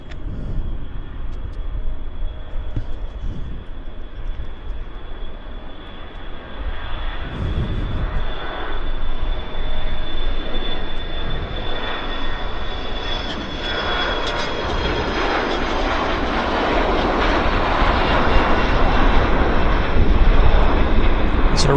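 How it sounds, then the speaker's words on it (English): A CRJ regional jet rolls down the runway at Vancouver Airport on takeoff, its steady engine roar and whine swelling louder over about twenty seconds with no talking. "CRJ on the roll."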